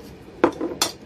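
Utensil clinks and scrapes against a dish while sardines are mixed with chermoula spices and olive oil, a few short close clatters with quiet gaps, no talking.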